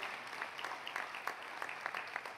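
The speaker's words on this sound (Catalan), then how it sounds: "un aplaudiment potser per remarcar-ho" Audience applause at a presentation event for the Catalonia Hydrogen Valley, a steady, fairly faint patter of many hands clapping throughout, heard from a distance in a hall.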